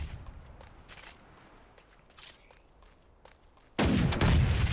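Gunfire in the mecha battle game Super Mecha Champions: scattered shots and sharp impacts early on, then a sudden loud sustained barrage of heavy rapid fire bursting in near the end.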